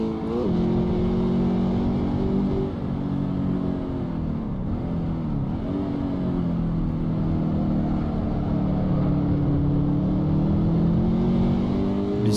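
A car engine in the racing game Assetto Corsa, steady droning revs held near one pitch that dip and climb again through gear changes, loud and continuous with no talking.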